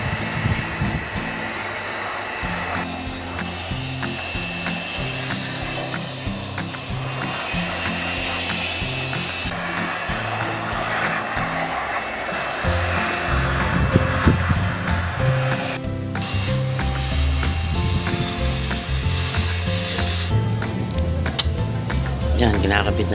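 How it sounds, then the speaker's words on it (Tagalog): A Fujiyama electric blower dries washed Honda Click 125i scooter parts after cleaning, giving a continuous airy whir that runs the whole time under a person talking. "gagamit tayo ng Fujiyama electric blower"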